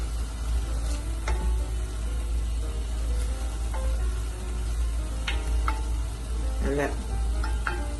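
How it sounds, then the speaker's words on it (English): Mushrooms sizzle and fry steadily in a hot pan as wine goes in, with stirring scrapes and clinks over a constant low hum and a brief spoken word. "Now you need to add about a 1/4 cup of wine."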